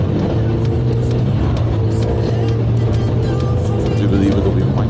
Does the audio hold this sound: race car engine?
yes